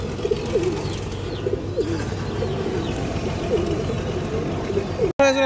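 Red Chulli pigeons coo repeatedly in short throaty phrases over a steady low mechanical hum, with a sharp clunk at the very end.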